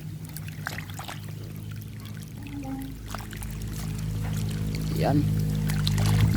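Water from a solar-powered submersible pump pours and trickles steadily into containers, a continuous flowing wash that grows slightly louder toward the end, with someone talking over it.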